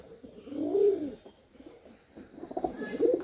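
A pair of Kaldhuma pigeons from Chennai, including a red-eyed hen, gives low, rolling coos in two close bursts, loud and near, with no talk over them.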